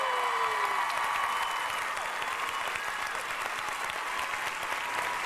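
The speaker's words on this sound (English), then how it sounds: "a big round of applause" A television studio audience gives a big round of applause for a band, a dense, steady wash of clapping and crowd noise held loud and unbroken throughout.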